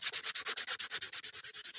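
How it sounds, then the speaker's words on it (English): Rapid, even back-and-forth strokes sand hardened body filler, close and loud, a steady rhythm of about eight strokes per second with no voices. "when you're sanding and trying to cover up a transition"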